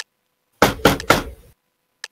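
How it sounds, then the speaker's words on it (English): Three rapid knocks on a door, loud and close, followed after a pause by a single faint tap. "Seth, they're knocking on the door."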